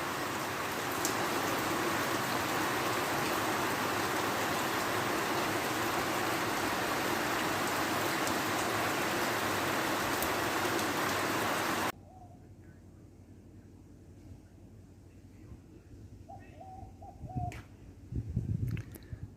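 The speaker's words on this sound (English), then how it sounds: "just listen to this rain" Steady rain pours down around an outdoor deck, a dense continuous hiss for most of the stretch before it suddenly drops away to near quiet with a few faint bird sounds and soft knocks.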